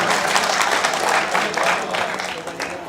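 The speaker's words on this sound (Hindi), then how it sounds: "फिर ये ताली हल्की क्यों है" An audience at a mushaira poetry gathering in Noida claps steadily, a dense, moderately loud wash of applause that holds for the whole moment with a voice faintly underneath.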